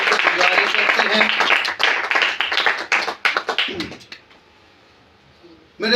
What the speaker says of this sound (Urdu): کلام مقدس کے لیے زوردار تالیاں بجائیں۔